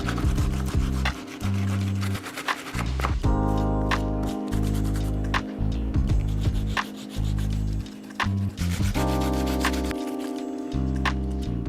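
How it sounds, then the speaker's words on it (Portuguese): Steady rubbing rasp of sandpaper worked over a plaster Gessonart piece with water, in continuous back-and-forth strokes with brief pauses, close and fairly loud, with no talking. "Por isso que é indicado o uso da água para você lixar."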